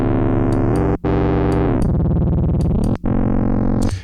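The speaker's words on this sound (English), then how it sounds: "And you can hear it has some sort of a wobble in there." FM8 synthesizer tone with a detuned, beating wobble: a loud, steady distorted synth note that shifts pitch in a few steps, with short dropouts between notes.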